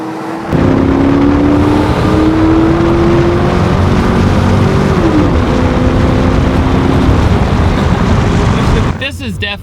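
Pontiac Firebird Trans Am with an LS1 V8 runs loud and close, its engine tone climbing and shifting pitch in a sustained rev before cutting off near the end.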